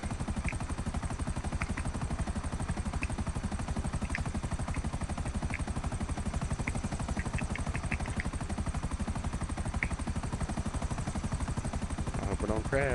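A helicopter in GTA 5 Online gives a steady, rapid thumping rotor beat and engine drone across the whole stretch. Faint clicks and short bursts sit on top of it.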